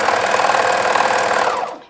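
A sewing machine stitches up the centre back seam, running as one steady, close, continuous whirr for about two seconds before stopping, with no talk over it.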